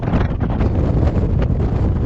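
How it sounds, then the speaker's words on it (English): Strong wind roars and buffets the microphone on a Welsh mountain summit, Moel Siabod, in a constant, heavy rush with no pauses. "It's just too windy."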